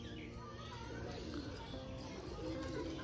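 Pigeons coo softly in low, repeated murmurs over a steady background hum, with faint chirps mixed in.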